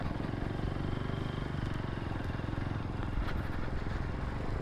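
Steady engine drone of a Kawasaki W175 motorcycle on a relaxed ride, a continuous dense rumble with wind and road noise throughout and no pauses.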